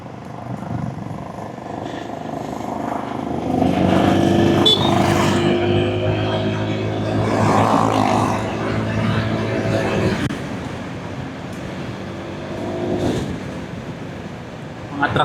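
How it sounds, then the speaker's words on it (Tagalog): Traffic on a road near an intersection in Pagsanjan, engines rumbling loudly as vehicles pass up close, the noise swelling and fading over several seconds. "truck yun eh, mga truck."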